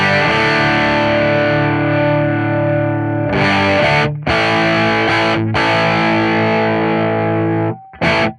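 Heavily distorted electric guitar through an STL AmpHub amp sim with the master pushed for power tube saturation, playing loud sustained chords in bursts with short choked gaps and a final brief stab, no talking.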